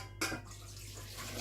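Milk pours steadily into a metal container of an Essens yoghurt maker, starting with a clunk and becoming a continuous close liquid rush without speech.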